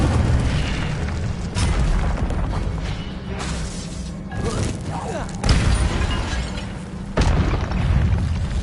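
The Incendio fire spell cast in the video game Hogwarts Legacy, heavy booming whooshes and bursts over a dense rumbling backdrop, with several loud hits through the clip.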